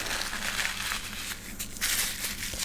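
A brown paper towel being crumpled into a ball, close and crisp crinkling with bursts of sharper crackles, no voice over it.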